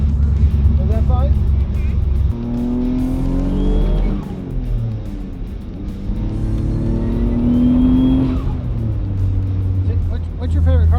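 A 500 whp Mitsubishi 3000GT VR-4 pulls hard under turbo boost, its engine note rising in repeated loud sweeps between shifts, heard from inside the car with voices talking over it.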